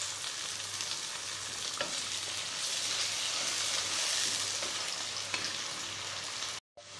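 Softened onion frying in a pan with ginger-garlic paste just added, a loud continuous sizzle with occasional stirring scrapes, close and alone, ending in a brief cut.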